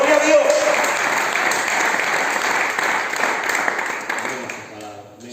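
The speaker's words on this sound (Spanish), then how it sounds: "Dale un fuerte aplauso a nuestro Dios" A church congregation applauds during a Spanish-language sermon on sanctification and the Holy Spirit: loud, dense, sustained clapping with voices over it, thinning slightly near the end.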